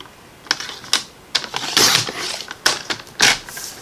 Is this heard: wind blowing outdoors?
no